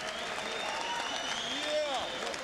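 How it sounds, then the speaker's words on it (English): Crowd applause and cheering in a boxing arena after a fight, a continuous wash of clapping and noise with a voice briefly audible over it. "let's have a nice round of applause for both of these fighters"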